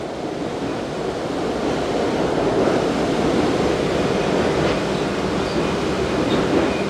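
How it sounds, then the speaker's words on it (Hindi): Loud, steady roar of rushing river water churning continuously in a whirlpool along walls, dense and unbroken, with no voices. "ये जो पानी बिल्कुल साइड में घूम रहा है दीवारों के साथ, तो इसे व्हर्लपूल कहा जाता है।"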